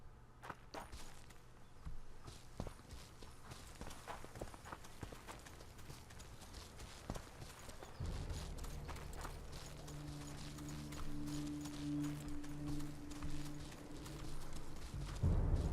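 Roach the horse trots in The Witcher 2, with rhythmic hoofbeats clip-clopping steadily nearby, joined in the second half by a louder ambient rumble and wind-like wash.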